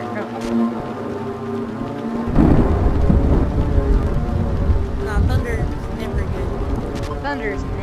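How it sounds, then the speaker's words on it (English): Thunder rolls in with a sudden heavy rumble over steady rain in the horror video game Silent Hill, while someone talks and exclaims over the storm throughout. "Thunder is never good,"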